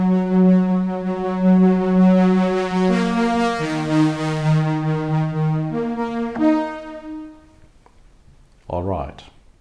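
A Zynthian synthesizer built on a Raspberry Pi plays a sustained, harmonically rich tone that steps through a few pitches, fading away before a short burst of sound at the close.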